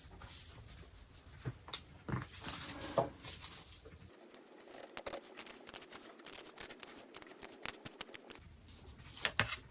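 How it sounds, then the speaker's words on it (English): Scissors cut around the bottom edge of flat paper pieces, making a steady series of small, close snips and crisp crunching sounds with brief pauses and faint rustling between them. "take some scissors, and I'm going to cut around the bottom edge here"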